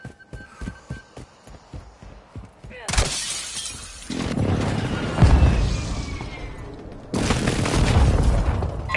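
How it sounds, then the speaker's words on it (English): Airstrike explosions in a military video game: several loud, broad blasts and rumbling bursts arrive one after another after a stretch of softer rhythmic clatter, with heavy sustained roaring between impacts. "Friendly airstrike on the way."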